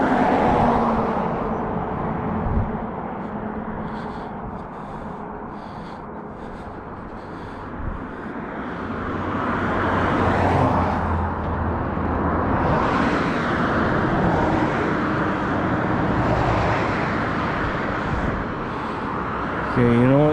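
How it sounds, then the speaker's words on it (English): Street traffic rumbles as a steady roadway wash, with passing vehicles swelling and fading, while someone talks close by over it throughout. "I'm sorry if the traffic noise is making it hard for you guys to hear me"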